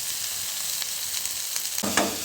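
Chopped bottle gourd pieces sizzle in a hot pan with curry leaves, turmeric and chili powder, a steady close frying hiss that swells into a louder burst near the end as more goes in or gets stirred.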